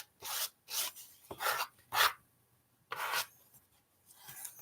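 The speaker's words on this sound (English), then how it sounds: "if you spread your paint with a Bondo spreader, that's what this is" Paint spread thin over envelopes with a Bondo spreader, heard as a series of short, soft scraping strokes with brief pauses between them, quiet and close.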